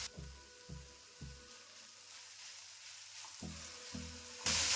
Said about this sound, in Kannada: ಇದು ಸ್ವಲ್ಪ ಎಣ್ಣೆಲಿ ಫ್ರೈ ಆಗಬೇಕು.